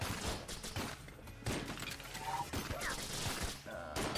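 Rapid bursts of video game shotgun fire with two shotguns, sharp loud blasts and crashes repeating irregularly through busy in-game action.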